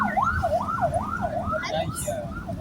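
A wailing ambulance siren rises and falls rapidly in a steady yelp, fairly close, with traffic rumble underneath, on a road in Pililla.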